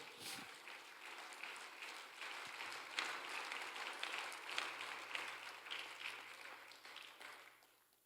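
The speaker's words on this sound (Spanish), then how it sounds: "Den un aplauso a Dios, hermano." A church congregation applauds during a sermon, a steady, fairly faint wash of clapping that holds for several seconds and fades out at the end.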